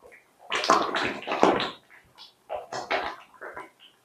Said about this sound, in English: this massive, bubbling, red hot lime putty